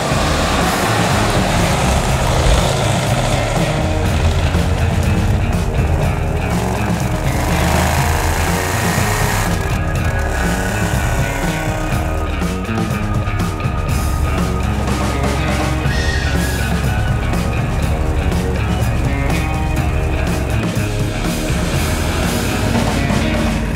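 A 1970 Dodge Challenger R/T with a Hemi V8 runs steadily. Its dense, continuous engine rumble holds throughout with no talk over it.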